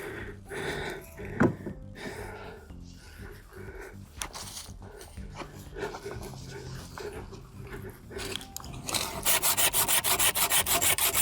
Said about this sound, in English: Time to change to another tool. Let's switch to the handsaw.